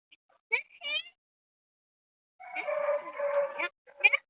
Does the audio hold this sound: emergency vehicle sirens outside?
no